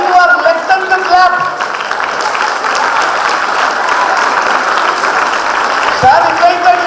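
Audience applause at a regional chess tournament ceremony, steady crowd clapping sustained throughout with voices and chatter mixed underneath.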